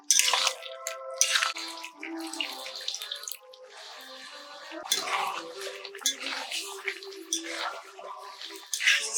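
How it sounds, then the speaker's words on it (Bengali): A plate is washed under running water, splashing and trickling in uneven bursts with occasional clinks of dishware, close by, with no talk. "থালাটা ভালো করে ধুয়ে জল দিয়ে দেবো"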